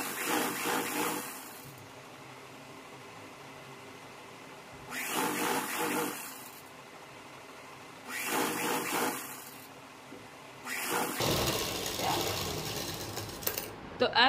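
A sewing machine stitching a pant hem in four separate bursts of fast whirring, each a second or two long, with quiet gaps between where a voice speaks.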